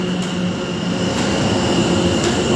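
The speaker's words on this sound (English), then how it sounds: "The train now approaching platform 1 is the 1400 London Overground service to Watford Junction." London Overground train at a station platform, a steady loud rumble with a constant tonal whine, close and unbroken with no voices.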